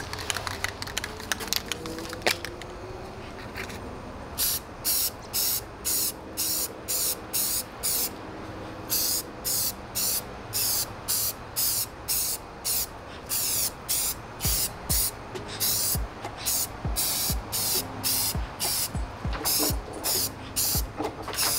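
A spray paint can applies primer in repeated short bursts of hissing, each lasting about half a second, with brief pauses between them and a faint low background hum.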